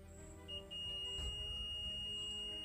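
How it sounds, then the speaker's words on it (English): A multimeter's continuity buzzer sounds a steady high-pitched tone while probing a shorted capacitor on a Samsung 40-inch LED TV panel board, starting after a brief moment and holding faintly to the end. "here you can see here the buzzer sound. It's telling that this PF is short."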